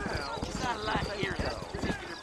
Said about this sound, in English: You ain't gonna find sturdier horses than these in all of New Orleans.